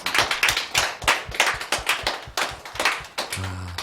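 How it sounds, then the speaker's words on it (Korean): A church congregation claps in steady rhythmic unison at a Christmas thanksgiving service, loud and close, with an organ or keyboard chord entering at the end. "우리 다시 한번 하나님께 영광의 박수 올려드리겠습니다."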